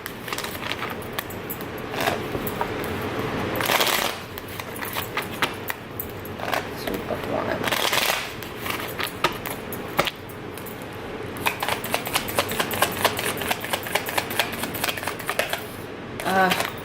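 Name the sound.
tarot cards being shuffled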